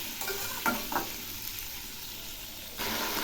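Pumpkin pieces with salt and turmeric frying in a pan, a steady sizzle broken by a few quick stirring scrapes, close and alone.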